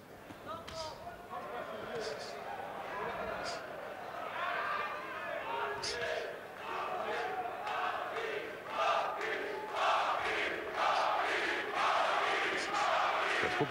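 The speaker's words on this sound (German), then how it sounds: "Das Publikum feuert Graziano noch einmal an für den Endspurt." Boxing arena crowd at a Pellizzaro vs Rocchigiani bout cheering Graziano on for the final push, a steady roar of voices and shouts swelling louder toward the end, with a commentator talking over it.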